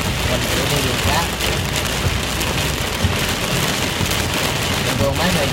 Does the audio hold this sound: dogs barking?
no